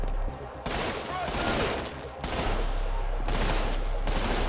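Dense, continuous shotgun fire and explosions from the first-person shooter Trepang 2 fill the clip with loud, overlapping blasts and no break between them.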